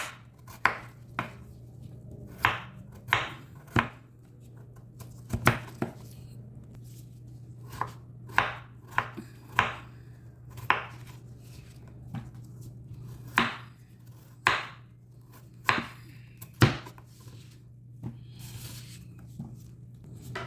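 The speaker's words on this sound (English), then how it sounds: "I'm gonna get these potatoes diced up." Potatoes being diced with a knife on a cutting board for smothered potatoes, a steady run of crisp close chops at an uneven pace over a low constant hum, no speech.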